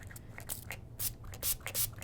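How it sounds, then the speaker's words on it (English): Makeup setting spray bursts from a big spray nozzle held far from the face, a few short hissing puffs with quiet gaps between them, close but soft. "Okay, I'm gonna hold it really far away and spray."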